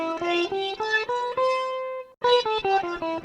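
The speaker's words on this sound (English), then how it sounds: "So the advanced vocoding sounds like this basically." Guitar played through a Boss VO-1 vocoder pedal in advanced mode runs up a scale of sustained, buzzy vowel-shaped notes. After a brief silent gap, a second run of notes follows.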